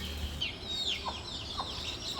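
Chickens clucking outdoors next to a home kitchen, a faint scatter of short calls and squawks over low background noise.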